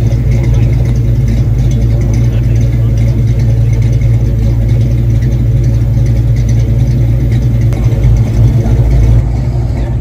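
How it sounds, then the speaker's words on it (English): A 1993 Ford Mustang Cobra Fox Body at a downtown Fort Myers car cruise, its exhaust giving a loud, deep continuous rumble close by throughout, with crowd and street noise mixed in. "did you hear what that exhaust sounded like? This is a beautiful 93 Cobra."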